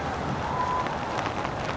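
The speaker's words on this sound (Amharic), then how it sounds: "በቃ ንፋሱ ምናምን በጣም ነው የሚከብደው።" Strong wind and rain make a dense, even rush of gusts and falling drops, close and loud, with no voices.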